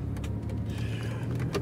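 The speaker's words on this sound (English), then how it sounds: "I fall for the jingling keys." Keys jingle in quick, bright shakes inside a 2005 Chevy Impala, over a steady low hum from the car.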